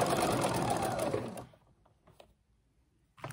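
A sewing machine stitches a ruffle onto a waist seam, running steadily and fairly loud for about a second and a half before stopping, followed by a few faint clicks and a brief restart at the end.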